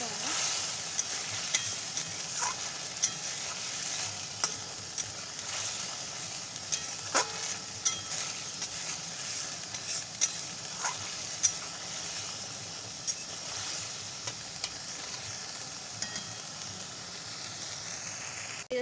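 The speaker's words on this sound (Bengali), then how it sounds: "তো মশলাটা হচ্ছে, এখনো একটু কষাতে হবে।" Spice paste for a chickpea ghugni sautés in oil with a steady, close, hissing sizzle, broken by frequent small scrapes and taps of a stirring spoon against the pan; no one speaks.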